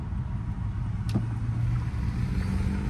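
A 2010 Lexus LS460 with flood damage rolls along a road, giving a steady low drone of engine and tyre noise with one brief sharp click partway through and no voices.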